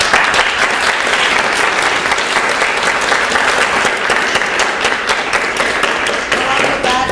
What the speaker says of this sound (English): so please give your teachers a big applause for all.